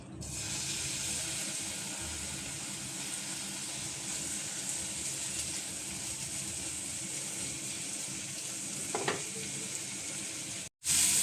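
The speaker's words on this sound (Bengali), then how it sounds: "সেই তেলের মধ্যে আমি চিংড়ি মাছগুলি হলুদ লবণ মাখিয়ে ভেজে নিচ্ছি" Prawns coated in turmeric and salt fry in oil left over from frying potatoes, a steady close sizzle throughout, with a brief clink near the end before it cuts off.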